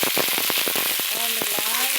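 Garlic sizzles and crackles in a hot pan, with a dense hiss and quick irregular pops, close and steady for a couple of seconds.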